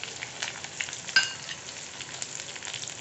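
Sesame seeds hitting hot groundnut oil for a tempering with mustard, cumin and chilli pieces, giving a steady close crackling sizzle throughout with a brief sharper pop partway through.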